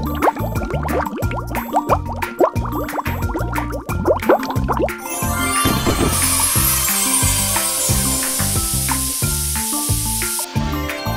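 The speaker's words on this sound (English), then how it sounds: "Time to wash the vehicle." Water sprays over a vehicle in a kids' construction game, a continuous hissing splash layered over a bouncy game soundtrack with repeated chime-like beats.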